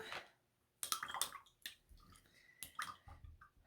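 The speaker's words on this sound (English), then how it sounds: "Wash out my big brush here." A big paintbrush is rinsed in a water jar: soft swishing, clinks and dripping splashes come in short bursts close to the microphone, with quiet pauses between.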